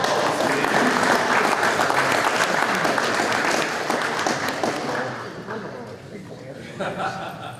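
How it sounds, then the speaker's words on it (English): An audience at a beekeepers' association meeting gives a round of applause, with dense, steady clapping and a few chuckles and voices mixed in, fading toward the end. "Let's give that guy a round of applause."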